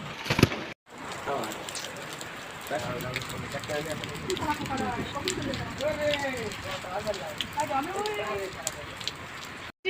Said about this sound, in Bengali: উঠেই দেখি বৃষ্টি, সারাদিন বৃষ্টি।